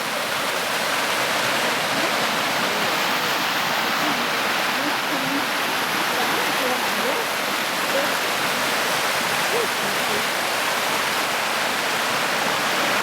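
Waterfall on the West Prong of Hickey Fork, a steady, full rushing roar of falling water that stays constant and close throughout, with faint voices barely audible beneath it.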